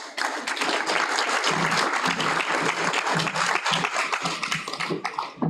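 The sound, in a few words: applause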